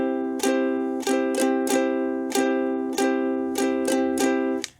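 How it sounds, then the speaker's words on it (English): Ukulele strumming in a mixed rhythm of quarter and eighth notes, with some strums spaced evenly and others arriving in quick pairs, bright and close with ringing chords and no voices. "we're going to play a combination of quarter notes and eighth notes"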